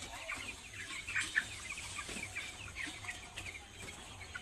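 Young broiler chickens, fourteen days old, clucking and peeping together in a poultry house, a steady busy chatter of many birds with brief louder calls, no talking.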